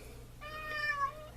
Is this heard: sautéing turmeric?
no